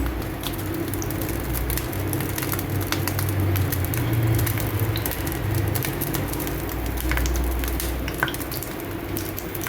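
Oil heating in a pan for village-style rasam produces a constant, fairly loud sizzle and patter with occasional faint utensil clicks, steady from start to finish; no speech.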